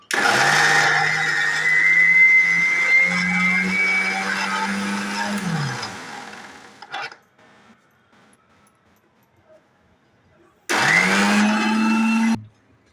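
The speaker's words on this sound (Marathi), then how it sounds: "हे आता आपण दरदर करून घेऊया आता मी चटणी" A mixer grinder coarsely grinds a curry leaf chutney seasoned with salt, whirring loudly and steadily for about six seconds, then stopping into near silence before a shorter second burst of grinding.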